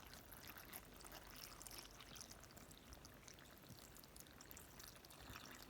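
Milk pours steadily into a Vitamix blender holding pumpkin seeds, a continuous close liquid stream and trickle with no talk over it.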